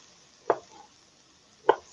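A knife strikes a cutting board twice while chopping small peppers, two crisp, separated taps about a second apart in an otherwise quiet kitchen.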